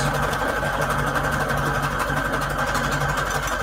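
A sewing machine stitching fabric onto index cards with a decorative stitch, a fast steady mechanical whirring and rapid needle clatter, close and continuous without talking.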